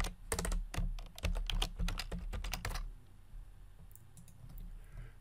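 Rapid, close computer keyboard typing, a dense burst of crisp key clicks for about three seconds, then a few scattered soft clicks, with no talking.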